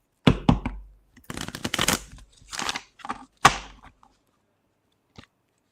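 Tarot cards are shuffled by hand in several quick riffling bursts and sharp taps, close and crisp, separated by brief pauses, with a single soft tap near the end.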